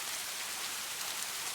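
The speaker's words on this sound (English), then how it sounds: "The rain began again" Steady rain falls in a dense, even hiss of countless drops with no pauses, a continuous wash of sound at moderate loudness.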